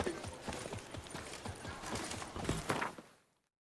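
Roach, a horse in The Witcher 3, trots with steady rhythmic hoof clops at close range, then the clip falls silent at the end.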